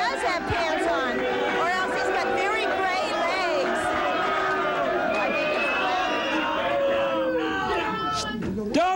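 A studio audience chatters and murmurs for the length of the clip, a dense, loud hubbub of overlapping voices with scattered shouts and laughter.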